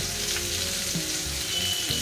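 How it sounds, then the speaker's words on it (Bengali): Chicken pieces for Goan chicken cafreal fry in a pan, giving a steady, dense sizzle and crackle that runs the whole time at close range, with faint clinks of stirring and no talk. "আমরা এই চিকেনগুলো প্রায় গল্প করতে করতে ভাজা হয়েই গেছে"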